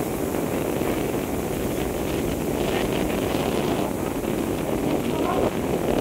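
Strong wind roars steadily through a forest beside a canal, a loud constant buffeting rush across the microphone with no breaks.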